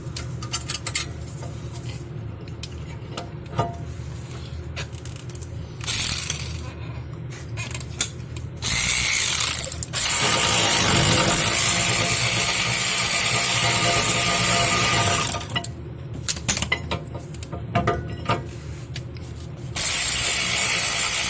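Ratchet work on the rear brake caliper mounting bracket of a 2015 Toyota Corolla gives rapid clicking pawl bursts with pauses between them, then longer, louder stretches of grinding and rattling turns close up.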